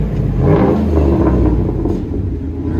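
A GMC Sierra AT4 with a 6.2L V8 and muffler-deleted exhaust gives a deep, loud, close rumble that swells briefly as the throttle comes up, then holds near idle, with no talk over it.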